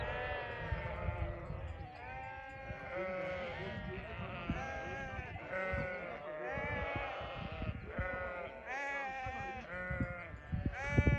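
Many sheep bleat continuously nearby in the Nurhak Mountains, their overlapping calls filling the air with a constant chorus.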